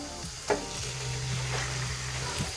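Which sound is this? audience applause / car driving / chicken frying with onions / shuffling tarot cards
chicken frying with onions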